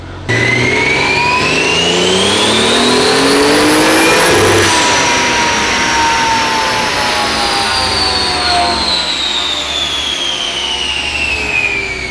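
A car with a 2JZ engine is run on a dyno at about 13 PSI of boost. It revs loud and close, climbing in pitch to a peak, drops sharply, then holds a long, steady, high drone.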